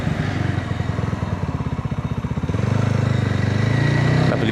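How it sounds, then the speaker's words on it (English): A new BSA Bantam 350 motorcycle with a liquid-cooled engine is ridden through Suffolk countryside, its engine throbbing steadily and close, then building to a fuller, louder drone partway through. "Lovely bit of Suffolk countryside to ride around and test this new BSA Bantam 350"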